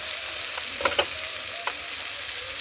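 Koi fish and tomato sizzle in a frying pan, a steady hiss of frying with a few sharp crackles and stirring clinks partway through, close and moderately loud with no talking.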